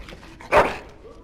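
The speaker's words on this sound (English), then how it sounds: "Bloody dog." A dog in the video game Dragon Age: Origins lets out a single sharp, close bark midway, with quieter whimpery yips before and after and no speech.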